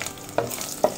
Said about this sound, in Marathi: हे तेल तापलं आहे, आपण कढीपत्ता टाकतो आहे